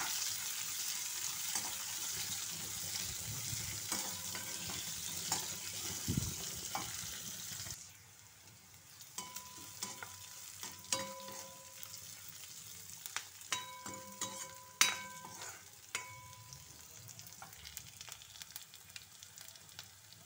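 Brinjal pieces fry in a home kitchen pan, a steady soft sizzle with scattered clinks of stirring and a few faint taps, quieter after the first third.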